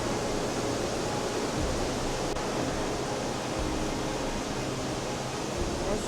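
A rain-swollen stream rushing beneath a bridge on a rainy day, a steady broadband roar of water that stays loud and unbroken throughout, with no voices.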